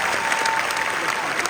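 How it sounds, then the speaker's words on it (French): A short burst of steady, dense applause from a gathered audience at a graduation ceremony, even in loudness throughout. "Faites-leur donc un tonnerre d'applaudissements"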